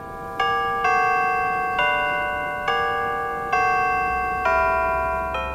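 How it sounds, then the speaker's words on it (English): Electronic church bells ring out a slow, even sequence of clear chimed tones, each struck about once a second and decaying before the next, heard alone with no voices. "Here's a sample of electronic bells."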